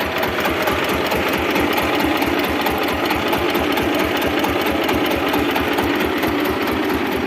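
A small single-cylinder mini tractor engine runs steadily nearby with a fast, even chugging rhythm that continues without a break.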